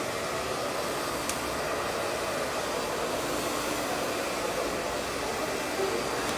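A hair dryer blow-dries a thick section of hair during a salon layered haircut, blowing as a steady, close, even whoosh of airflow throughout with no talk over it.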